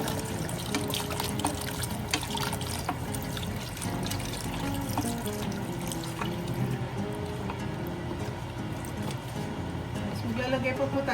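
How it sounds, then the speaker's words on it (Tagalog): Organic chicken broth is poured into a cooking pot for creamy Filipino sopas, a continuous liquid trickle and splash running steadily throughout under background kitchen noise. "Ang next kong ilalagay is ang organic chicken broth."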